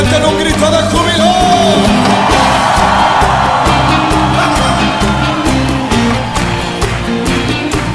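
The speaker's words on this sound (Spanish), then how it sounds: "Enamorados de Jesús, levanten un grito de júbilo" At a joyful Spanish-language worship gathering, the crowd shouts and cheers loudly over lively praise music that keeps playing throughout.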